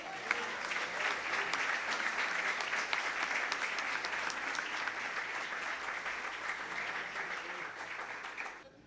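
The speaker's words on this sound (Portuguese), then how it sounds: "Você pode aplaudir Jesus?" A crowd at a theology bachelor's graduation ceremony claps for Jesus in sustained, dense applause that stays full and even for several seconds before cutting off abruptly.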